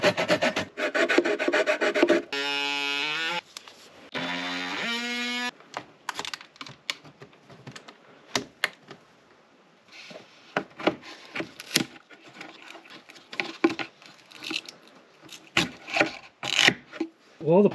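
A handsaw rasps through a wooden post in quick back-and-forth strokes, followed by scattered knocks, taps and scraping as the cut is worked; a loud tonal whine briefly intrudes early on.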